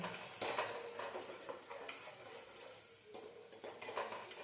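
Small onions fry in a pan for a gongura pappu, giving a steady close sizzle mixed with stirring scrapes and clinks of utensil against the pan, with no voices.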